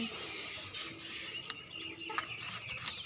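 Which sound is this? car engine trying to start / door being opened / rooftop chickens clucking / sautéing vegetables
rooftop chickens clucking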